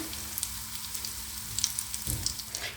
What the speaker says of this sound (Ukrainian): Смажу щось на вечерю нагетси.